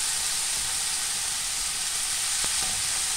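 Vegetables with tempeh and cashew nuts stir-frying in a pan for vegan pineapple fried rice, giving a steady, bright sizzle throughout with a couple of faint clinks, close and unbroken by talk.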